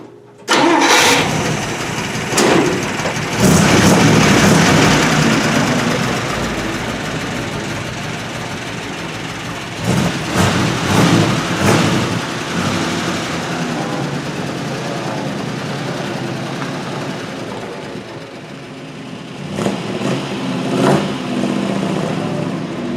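An old GMC Blue Diamond truck with a V12 engine and newly fitted electronic ignition cranks and catches, then settles into a loud, steady idle up close, with a few revs near the end.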